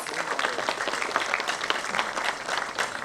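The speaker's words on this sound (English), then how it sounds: "Yangmaso Sisak, I think he deserves a great round of applause." An audience applauds an honoured guest at a public gathering, with dense, steady clapping that stays loud and even throughout.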